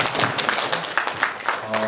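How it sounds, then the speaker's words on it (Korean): An audience at a church lecture claps in a brief burst of applause, steady patter of hands heard close with a voice speaking over it. "다시 한번 박수로."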